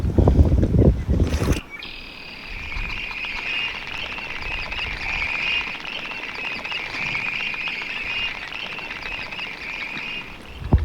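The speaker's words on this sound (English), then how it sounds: "we got Western Grebe rushing across the water" Rapid pattering splashes of Western Grebes rushing across water in North Dakota continue steadily under gusty wind, with a brief loud buffet at the start and faint calls throughout.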